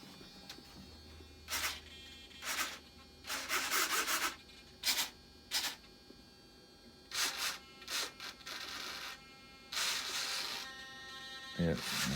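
Servo in an LX MiG-29 RC model jet driving back and forth, short bursts of buzzy whirring that start and stop repeatedly over a low hum, with someone talking at times.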